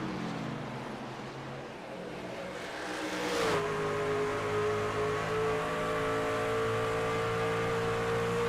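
Racing trucks roar around Rockingham speedway, a loud continuous engine drone that swells as one vehicle draws near, then settles into a steady high whine with a rising pitch.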